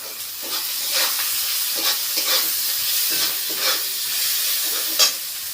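Onion added to hot oil with whole cumin, dried chili and garam masala, frying in a pan for a fish curry, a loud steady sizzle broken by regular stirring scrapes, no talking.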